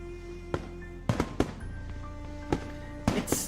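Fireworks burst in the Katawa Shoujo visual novel game, several sharp cracking pops spaced irregularly over a low rumbling background, some in quick doubled bursts, moderately distant and without talking.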